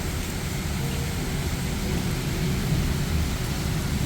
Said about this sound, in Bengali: আর কি জোরে ঝড় বৃষ্টি এসছে